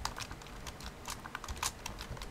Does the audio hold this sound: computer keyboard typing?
yes